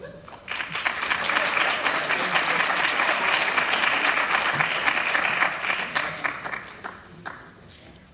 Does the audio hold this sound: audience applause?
yes